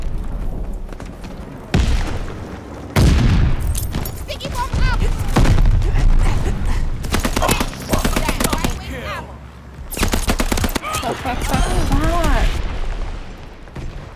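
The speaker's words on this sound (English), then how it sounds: "Sticky bomb out!" A sticky bomb detonates amid heavy gunfire in a desert-siege shooter video game, loud rolling blasts mixed with rapid automatic fire and continuous battle noise, with voices shouting over the chaos.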